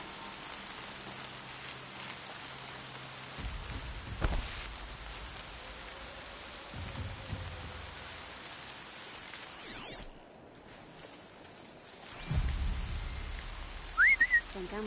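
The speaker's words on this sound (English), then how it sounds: "Rain's not so bad." Steady rain falls across a Horizon Zero Dawn game scene, a constant hiss of drops with a few brief louder thumps and a short quiet gap near the end, no talking.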